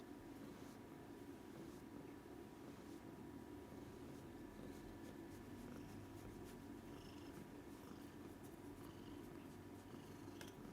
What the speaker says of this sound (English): she's purring like so loud